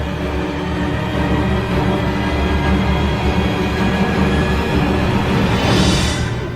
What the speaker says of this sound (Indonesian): Suara kipas angin gua.